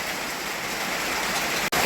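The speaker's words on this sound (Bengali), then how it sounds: "আবার বেশি বৃষ্টি শুরু হয়ে গেছে" Heavy rain pours down in a steady, loud, dense hiss that stays unbroken apart from a brief dip just before the end.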